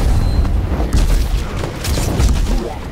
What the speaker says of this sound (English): Dr. Junkenstein lobbed his bombs at the castle, the explosions a percussive accompaniment to the sound of his laughter